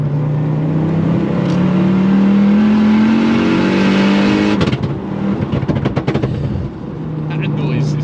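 Swapped Focus RS 2.5T five-cylinder engine in a 500 bhp Mk6 Ford Fiesta RS revs loudly with a rising pitch, then drops into a burst of sharp crackles and pops before settling back to a throaty idle.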